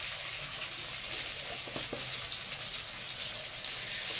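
Mango pieces frying in a pan for mango dal, a steady broadband sizzle filling the pan with no pauses, close and fairly loud, with a faint clink of stirring partway through.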